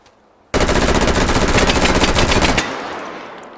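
Rapid automatic gunfire from the Commando rifle in Call of Duty: Black Ops, a loud sustained burst of about two seconds that stops abruptly and leaves a fading echo tail.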